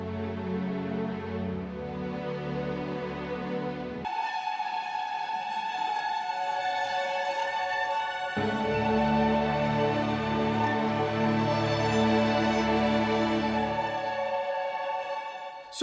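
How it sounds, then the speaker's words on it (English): Sustained low strings hold a dark, soft bed while a pad twinkles above them, the texture dropping thin briefly before the full layered swell returns and carries on without any voice. "the sustained strings are really giving that low emotional feeling, and the pad is playing some twinkles on top of it"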